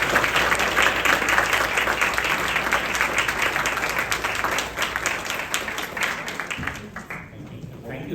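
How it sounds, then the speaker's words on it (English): An audience at a temple Thyagaraja Aradhana celebration applauds after a singing performance, loud dense clapping that gradually thins and fades toward the end, with some voices mixed in. "Let's give a big round of applause for singing."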